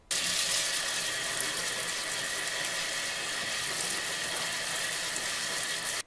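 Running tap water pours steadily over asparagus being washed at a kitchen sink, a continuous loud gushing hiss that fills the whole stretch without a break.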